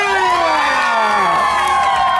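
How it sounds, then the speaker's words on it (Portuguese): A crowd at a tribute celebration in Cangaiba, Penha claps and cheers, a loud, continuous roar with bright whooping voices rising over the clapping. "E uma salva de palmas mais que especial para quem não está aqui presente"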